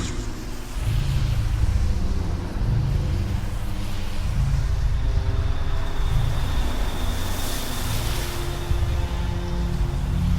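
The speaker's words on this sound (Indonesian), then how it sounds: "mobil angkot ini dengan cepat melaju." An angkot minibus speeds along in an Indonesian radio drama, a continuous heavy engine and road rumble that holds steady and close from start to finish with no voices.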